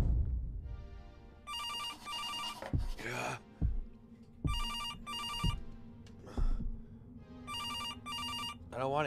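A telephone in a video game rings in repeated electronic bursts, each a double trill, recurring several times over constant low game sounds and thumps.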